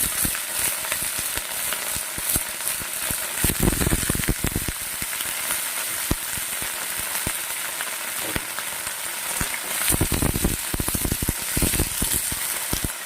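Potatoes and drumstick pieces fry in an oiled pan, giving a dense, close sizzle with bursts of crackling and stirring clatter that swell and ease, steady throughout with no voices.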